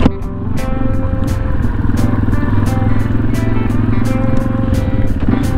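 Motorcycle engines on a coastal national highway, Route 255 along the Harima Seaside Road, a loud steady drone with rhythmic clatter as bikes ride close by, no talking.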